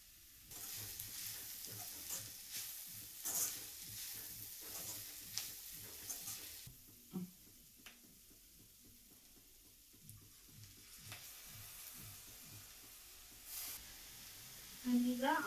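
Drumstick leaves and dill fry in a pan for egg bhurji, a soft, quiet sizzle with light, irregular stirring taps and scrapes throughout, close and low in level.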